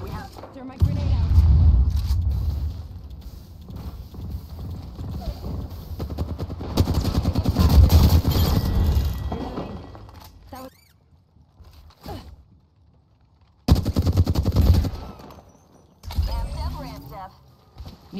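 Gunfire in the Apex Legends video game comes in bursts of rapid shots with short gaps of quiet between them, with a voice speaking over the firing.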